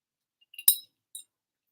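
A glass of water clinks when it is lifted, giving one bright ringing tap, then a softer second clink a half-second later, close and otherwise quiet.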